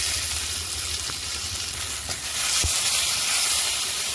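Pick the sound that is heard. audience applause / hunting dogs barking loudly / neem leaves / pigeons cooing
neem leaves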